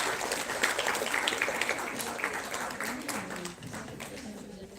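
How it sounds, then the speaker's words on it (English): Audience clapping at a health conclave in Chandigarh, a steady moderate patter of many hands that gradually thins out, with voices murmuring underneath. "A big round of applause for Miss Kanika Takiar."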